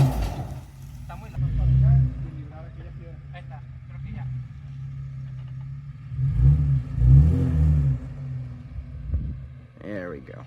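A 2024 Toyota Tacoma pickup truck driving off-road, its engine rising in two revving surges as it gains momentum, with people talking over the engine in the cab.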